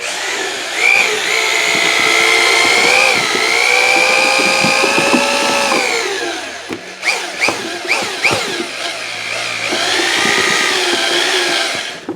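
A power drill with a mixing paddle churns tinted drywall texture mud in a pan, giving a loud, close, steady motor whine. It stops for a few seconds of knocking and scraping, then spins up again.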